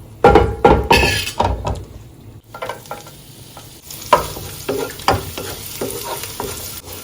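Garlic and dried red chili frying in oil in a home kitchen pan, a steady close sizzle broken by repeated sharp stirring clatters and spatula knocks against the pan.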